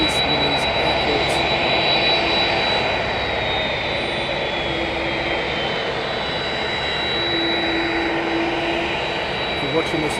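A jet airliner taxiing in to park at East Midlands Airport, a steady loud engine whine and rumble holding throughout with a high tonal whistle, close by, with a voice talking over it.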